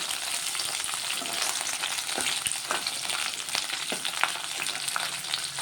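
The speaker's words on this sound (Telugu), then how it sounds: "పచ్చిమిర్చి అయితే ఇట్లా వేయించుకోవాలి." Green chillies fry in oil in a pan, giving a steady, dense sizzle throughout with occasional crackles and pops, close and continuous with no talking.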